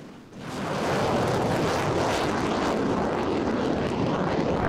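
An F-16 fighter jet flying without a pilot roars past, the engine noise swelling quickly after a brief lull and then holding loud and steady, close and alone with no talk.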